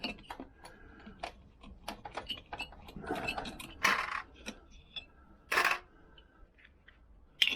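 Nut being worked loose from the cylinder head of a Vespa PX200 EFL scooter, giving scattered metallic clicks, ratcheting ticks and a few louder clanks at close range, with no talking.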